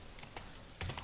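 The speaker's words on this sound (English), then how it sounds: "I'm going to go ahead and type the word charset" Brief burst of typing on a computer keyboard: a handful of soft, close keystrokes in quick, uneven rhythm over a quiet background.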